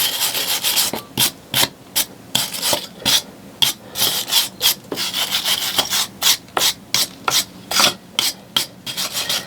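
Lime plaster is smoothed by hand, and the surface is rubbed in repeated rasping strokes. The bursts are close and fairly loud and come in an irregular rhythm, with no talking.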